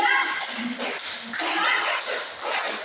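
A class of children claps in a counted pattern, evenly spaced bursts of clapping with voices chanting along.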